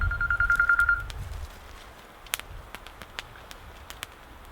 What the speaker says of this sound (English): and there goes my phone again.